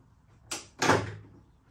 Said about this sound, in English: opening the doors on your Perfect Draft